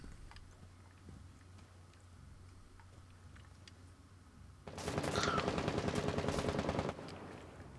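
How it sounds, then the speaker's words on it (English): Rapid automatic gunfire in Rainbow Six Siege breaks out suddenly after a quiet stretch of faint ticks and clicks, a loud sustained burst of about two seconds that then cuts off. "Who's doing all that shooting?"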